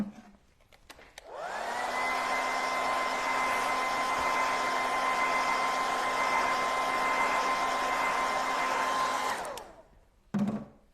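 A handheld dryer whirs steadily for about eight seconds while drying paint on a sign, a constant loud airy whine that switches on and cuts off cleanly.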